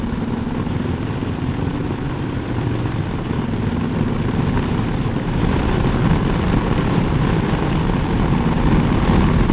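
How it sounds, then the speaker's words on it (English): Heavy, steady wind roar buffets a rider on a 2019 Harley-Davidson Sport Glide motorcycle, mixed with a low engine drone and growing slightly louder toward the end. "I don't know if you can hear me over the wind noise, but getting a lot of wind"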